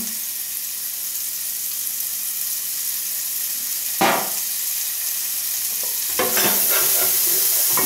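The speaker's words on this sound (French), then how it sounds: "Dans la même sauteuse, je mets oignons, les oignons," Onions frying in a sauté pan give a steady, close sizzle with some stirring, briefly louder around the midpoint and again near the end.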